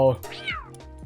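A cat-like creature in the video game Palworld meows, a clear, bright, fairly close cry with a rising and falling pitch, followed by a couple of short softer chirps.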